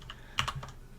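A few quick keystrokes on a computer keyboard while a file name is entered at a lab workstation, faint and close, with no talk.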